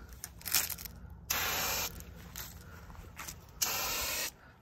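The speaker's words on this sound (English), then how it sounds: "It just painted like that whole wheel in one spray." Aerosol paint sprayed onto a wheel of a 1959 Edsel Corsair, two sustained close hissing bursts of about half a second each, separated by quieter handling sounds.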